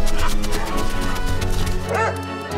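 A cartoonish dog barks and yips repeatedly in The Good Life video game, bright and close, over a musical backing with a brief whimpering rise near the end.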